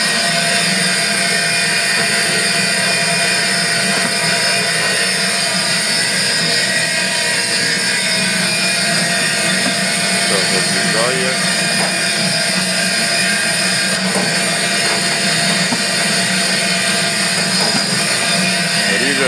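A newly ordered trimming machine runs continuously, a loud steady mechanical whir and roar that stays even throughout with no pauses or talk.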